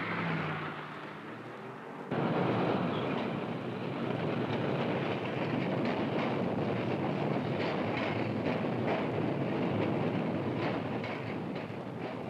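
A rapid transit train, a continuous loud rumbling roar that swells abruptly after a couple of seconds and then holds steady with faint rhythmic clatter, with no talking.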